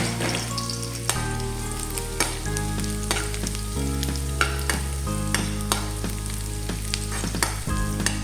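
Garlic sautés in hot cooking oil for a home-style chayote dish, a constant close sizzle broken by the clinks and scrapes of a stirring utensil against the pan, with no talking.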